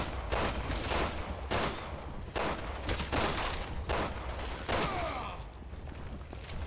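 Rapid bursts of gunfire in the Resident Evil 6 video game, with loud repeated volleys of shots in quick succession and short pauses between them, heard close and without talking.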